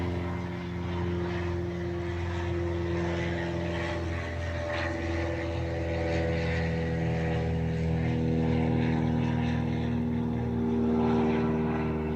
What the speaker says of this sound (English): Gonna let this other airplane go.